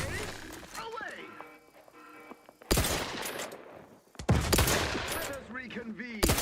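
Combat in The Outer Worlds 2 with sharp, loud bursts of gunfire and blast noises breaking in abruptly a few times, mixed with in-game voices and effects between the bursts.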